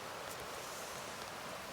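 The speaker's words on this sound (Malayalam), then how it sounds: "മഴ വന്നു ഗൈസ്, മഴ" Rain falling in Kochi, a soft, even hiss of steady drops on surfaces, faint and continuous with no voices.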